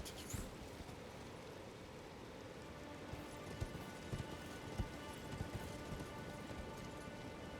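Rain in Elden Ring falling as a steady, faint hiss with scattered soft drops and light taps, alone without talk.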